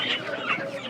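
Chickens cluck and squawk in a busy village poultry market, the mixed bird calls close and steady, with faint market chatter behind them.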